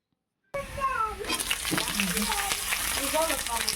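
Cut eggplant drops into hot oil and fries with a steady crackling sizzle, beginning abruptly after a moment of silence, with faint voices and animal-like cries in the background.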